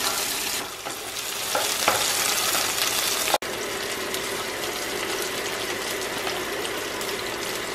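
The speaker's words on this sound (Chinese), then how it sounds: "炒出香味来之后，放进刚刚准备好的辣椒、花椒、八角、" Chili, Sichuan pepper and star anise stir-fried in hot oil for homemade hotpot: a loud, steady sizzle with scraping stir strokes, broken by one brief cut midway, no voices.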